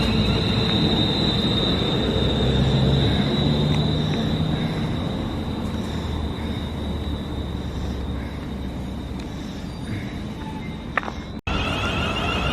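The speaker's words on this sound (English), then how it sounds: "That's my train departing, going to London Euston" A 12-coach Pendolino train pulls out for London Euston, a steady heavy rail rumble with a thin high whine running close by for the whole stretch before a sudden sharp cut.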